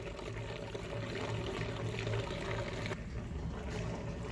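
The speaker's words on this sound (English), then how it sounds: "by holding it high, you get some really good bubbling in there" Homebrewed wort from a RoboBrew system poured from a height into a fermenter, a steady close splashing and bubbling rush of liquid that continues throughout with a brief dip near the end.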